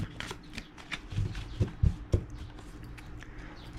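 Tarot cards are shuffled up close, a run of crisp riffling flicks and soft slaps in quick irregular bursts.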